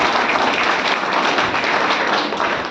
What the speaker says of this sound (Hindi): एक बार जोरदार तालियां ऑपरेशन सिंदूर के लिए बजा दीजिए।